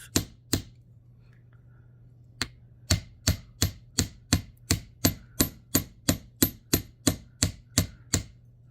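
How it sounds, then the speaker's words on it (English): Sharp metallic taps of a hammer on wire hoops struck one after another, a couple at first, then a steady, fairly quick run of about fifteen evenly spaced blows, close up. "when you're hammering, make sure try not to hammer your fingers"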